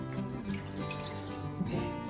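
Water poured into a pot while making marshmallows in a home kitchen, a continuous close trickling and splashing that holds steady for a couple of seconds without talk.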